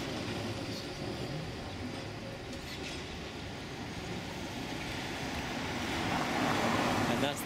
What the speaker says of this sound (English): And that's the number 10 tram.